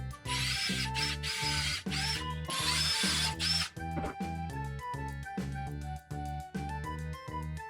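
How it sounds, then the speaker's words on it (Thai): A power drill whines at high speed in a long burst, then a series of short rapid pulses as it bores pocket holes into pallet wood, close up and loud. "ผมจะเจาะยึดด้วยพ็อกเก็ตโฮนะครับ"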